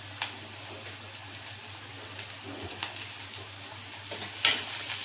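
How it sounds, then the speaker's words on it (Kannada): Onions frying in a pan for a Karnataka-style bassaru and avarekai palya meal, a soft steady sizzle with faint crackles and a few stirring clicks, close and quiet with no talk. "ಈರುಳ್ಳಿ ಸ್ವಲ್ಪ ಚೆನ್ನಾಗಿ ಫ್ರೈ ಆಗಬೇಕು"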